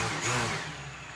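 A DJI Mavic Pro drone's motors spinning up, a brief close whirring whine that swells and then steadies, with no talk.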